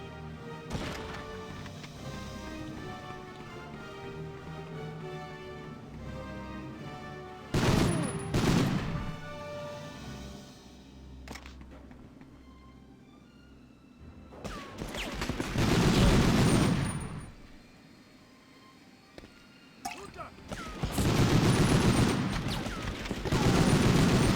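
Gunfire from the PS1 game Medal of Honor: repeated bursts of loud shots and explosions separated by quieter stretches of game music and ambience, with several heavy blasts near the end.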